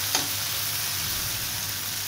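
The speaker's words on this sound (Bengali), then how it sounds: "এখন টমেটোগুলো ওই তেলে দিয়ে দেব। টমেটোটা ভালো করে ভেজে নিতে হবে," Chopped tomatoes fry in hot oil in a home kitchen pan, giving a steady, close, even sizzle with a faint stir near the start.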